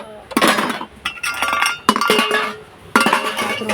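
Cooking pots and pans set down in a home kitchen, three bursts of metallic clinks and clatter separated by brief pauses, close and fairly loud.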